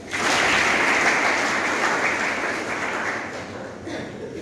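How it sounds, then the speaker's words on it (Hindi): A classroom audience claps together, a loud, dense burst of applause that starts sharply and holds for several seconds before gradually thinning out. "तालियां बजाओ उनके लिए"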